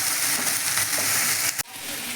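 Vegetable chop filling sizzles in a pan while it is stirred. A close, continuous frying hiss is broken by a sudden spatula scrape and knock before the sizzle resumes.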